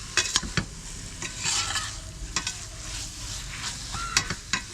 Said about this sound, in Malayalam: ഇനി എല്ലാം കൂടി നന്നായിട്ടൊന്ന് മിക്സ് ചെയ്ത് കൊടുക്കാം.